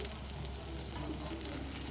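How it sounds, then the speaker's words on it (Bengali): Bread snacks fry in hot oil in a pan, two pieces at a time, giving a steady, even sizzle with no breaks, moderately loud and heard alone. "এবারে আমি দুটো দুটো করে ভেজে নেব"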